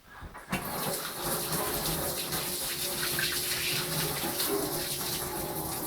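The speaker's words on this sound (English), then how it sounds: "excuse me 1 minute while I just rinse my hands off" Tap water runs steadily into a sink as hands are rinsed, a close, continuous splashing rush starting after a brief bump and lasting several seconds without speech.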